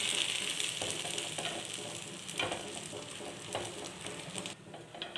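Two slices of bread fry with egg in a hot pan, sizzling and crackling steadily close by, with a few soft spatula scrapes breaking through.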